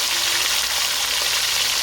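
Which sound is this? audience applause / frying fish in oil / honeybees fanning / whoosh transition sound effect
frying fish in oil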